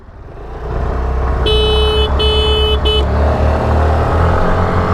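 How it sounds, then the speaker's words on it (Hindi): A vehicle horn honks three times in quick succession on the road, close and clear over the constant loud roar of engines and wind during a drag race between a Suzuki Access 125 and a Yamaha Fascino 125 scooter. "ठीक है हॉर्न दे रहे भाई।"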